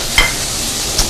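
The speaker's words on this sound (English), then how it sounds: "in our pan, we're just going to add 2 slices of minced bacon" Minced bacon sizzles steadily in a pan over lowered heat, a soft continuous fry with a couple of brief stirring scrapes.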